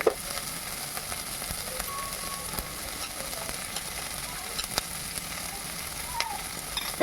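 Chopped green chillies frying in a pan for egg tadka, a steady even sizzle with occasional soft clicks and spatters, close and alone.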